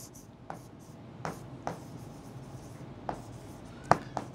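Marker or chalk taps and short strokes on a classroom board, several faint scratchy marks spaced irregularly over quiet room tone.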